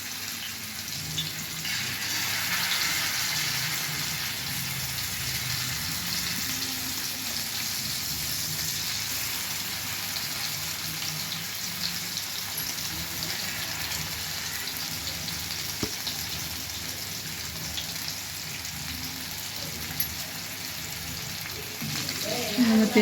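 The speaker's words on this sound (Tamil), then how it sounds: "இப்போ நம்ம மீன் ஃப்ரை பண்ணலாம்." Fish fries in oil on a flat tawa, a loud, close, unbroken sizzle with a hissy, watery edge that carries on steadily for over twenty seconds with occasional faint knocks.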